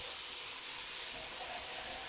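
Minced meat browning in a frying pan gives a steady, even sizzle and hiss, close and continuous throughout.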